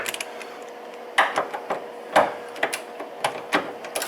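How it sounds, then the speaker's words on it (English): A torque wrench ratchets on steel motor mount bolts of a 2008-2012 Hyundai Santa Fe, making irregular close clicks and ticks in short bursts against a quiet background. "we're just going to torque this to 70 foot-pounds"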